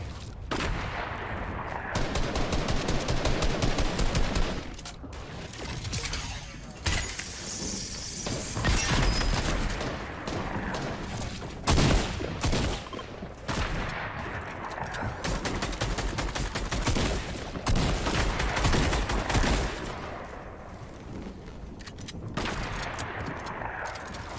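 Bursts of rapid gunfire from a Fortnite match in Floor is Lava mode, sharp volleys and automatic fire separated by brief lulls, loud and close with no talk over it.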